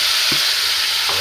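Marinated beef sizzles loudly in hot oil, a dense, steady hiss close by, with two soft knocks of a utensil against the pot.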